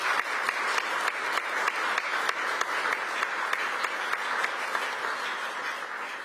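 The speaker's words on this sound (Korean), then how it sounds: "큰 박수로 환영을 부탁드리겠습니다." An audience at a Korean community meeting in Belgium gives warm, sustained applause welcoming the president, even dense clapping that holds steady at moderate loudness from start to finish.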